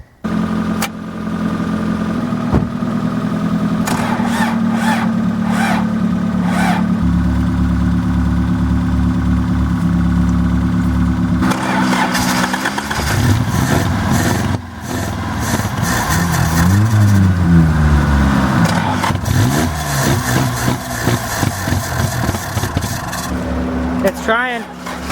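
An old car with stale varnished gas in the tank cranks repeatedly, the starter churning in bursts before the engine catches and runs roughly near at hand, with voices talking over it.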